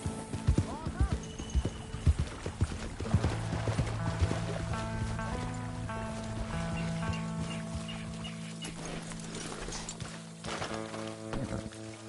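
Horse hooves clip-clop steadily in Red Dead Redemption 2 under in-game music and other sounds. Chickens cluck faintly, a horse whinnies, and voices talk over parts of it.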